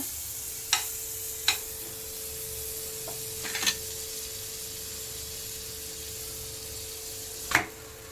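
Aloo paratha roasts on a hot pan with a steady, soft sizzling hiss, broken by a few sharp clicks and light scrapes spaced several seconds apart.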